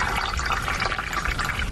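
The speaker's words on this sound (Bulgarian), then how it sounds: "след това добавя 1/3 чешмяна вода" Tap water is poured into a bottle holding a mixture of oil and diesel fuel, a steady, close, continuous splashing and gurgling fill with no talk.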